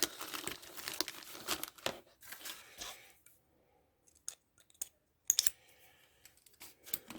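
Cardboard box being opened, with packaging crinkling and tearing in close, loud bursts separated by short quiet gaps, no one talking.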